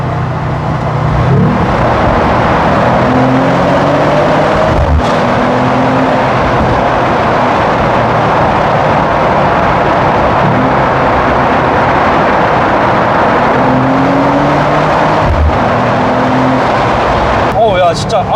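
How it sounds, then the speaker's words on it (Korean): Loud, steady engine roar of a Mercedes-AMG CLE 53 Cabriolet with top down, boomy, reverberant exhaust drone in a tunnel, rising and falling as the car accelerates, with voices talking over it. "또 여기서 터널 배기음 들려드려야죠"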